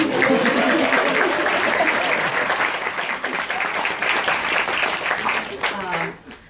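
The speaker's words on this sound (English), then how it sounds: "You should clap for them." A crowd at a book launch claps in loud, sustained applause that holds steady for several seconds, then quickly dies away at the end.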